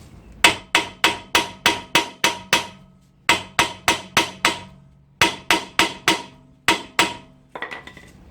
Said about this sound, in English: Oh, I could do my magic hammer right now.